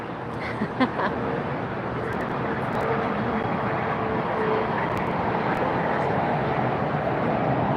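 An American Airlines passenger jet at LAX roars past as a broad, steady wash of engine noise that slowly swells and holds, with a few faint clicks early on.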